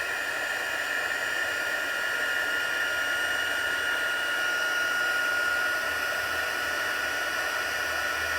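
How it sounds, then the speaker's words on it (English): A heat tool blows steadily to melt embossing powder, giving a loud, continuous fan whir with a high-pitched motor whine that holds unbroken throughout. "use the heat tool and get that embossing powder melted"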